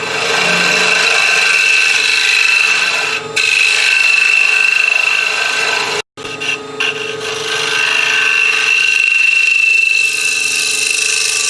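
A wooden bowl spins on a lathe while the gouge takes light cuts, giving a steady, bright rasping hiss that drops out briefly twice, close and loud, with no talking.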